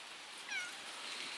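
A cat gives a single short, faint meow outdoors against quiet background hiss, with no talking.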